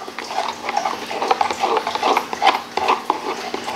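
Peppermint and tea tree essential oils being stirred into melted soap base, a steady close scraping and swishing of a utensil circling a container with light clinks, no talking.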